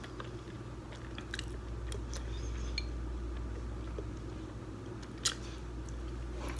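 Ramen noodles are chewed and slurped softly close to the microphone, with faint irregular crunchy bites and mouth sounds over a low steady background hum, no talking.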